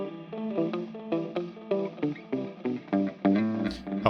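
An electric guitar plays a series of plucked notes and chords through the spring reverb of a TE TapeEcho MkII pedal, each pluck trailing a short splashy wash, clear and close with no talking.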